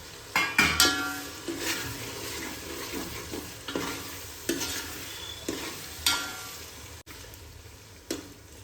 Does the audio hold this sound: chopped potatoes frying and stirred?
yes